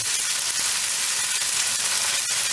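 Mustard seeds, curry leaves and chili, cumin, coriander and turmeric powders fry in hot oil in a pan, making a loud, steady, close sizzle with faint crackles and no talking.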